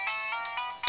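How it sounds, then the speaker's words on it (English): A telephone ringtone trills in a quick run of repeated electronic chirps, close and clear over faint room tone, with no voices. "sorry about the phone"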